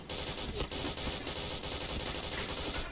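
Sustained automatic gunfire in the online shooter Point Blank, a dense, continuous rattle of shots that stays loud and close for the whole short burst.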